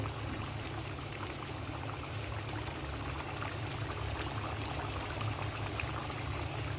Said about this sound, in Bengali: দেখো কি সুন্দর বলক উঠতেছে